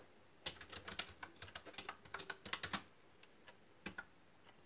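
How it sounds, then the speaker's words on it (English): Keys clacking on a new computer keyboard, a quick irregular run of crisp taps that pauses briefly, then two more strokes, close and fairly quiet with no talking. "let's test if this keyboard's quality is pretty good."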